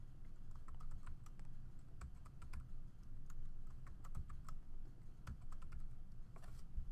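A password is typed on a computer keyboard as a quiet, close patter of irregular key clicks that runs for several seconds over a low background hum, with no voices.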